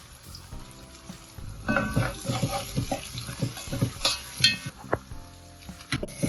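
Onions and curry leaves sizzle in hot oil in a pan for Jaffna-style vadai, a soft crackling fry broken by scraping and clinking as a spoon stirs them.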